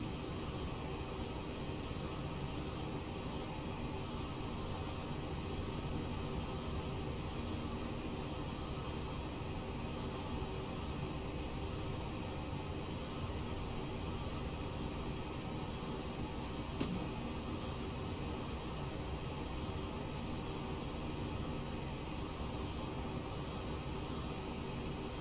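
Steady broadband roar of a CRJ-700's jet engines heard from inside the cabin as the throttles are eased slightly forward in cruise, a constant loud drone with no talk over it.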